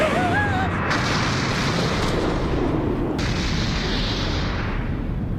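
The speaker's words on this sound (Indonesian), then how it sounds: "Lalu salah satu anak buah Kapten Buggy membakar sumbunya dan Bagi Dama berhasil ditembakkan." Buggy Ball cannon fired in the One Piece anime: a heavy, sustained rumbling blast that fills the whole span, with a brief whistling tone at the start.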